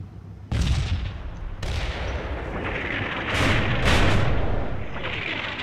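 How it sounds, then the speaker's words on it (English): Artillery fire in the Cold War combat game Combat Mission Cold War: several sharp booming reports, with roughly five distinct blasts spread across a few seconds, each trailing into a rolling rumble, fairly loud with no speech. "now's a good time for the artillery"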